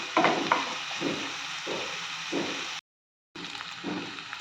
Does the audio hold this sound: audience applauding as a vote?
no